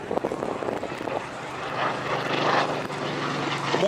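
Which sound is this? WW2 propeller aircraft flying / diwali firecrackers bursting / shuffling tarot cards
WW2 propeller aircraft flying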